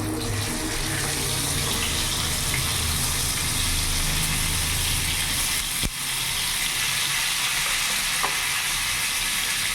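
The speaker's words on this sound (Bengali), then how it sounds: "এরই মধ্যে একটা একটা পটল দিয়ে দেবো।" Pieces of pointed gourd (potol) fry in hot oil seasoned with salt and turmeric, a loud, continuous dense sizzle close by, with one brief clack midway and no talking.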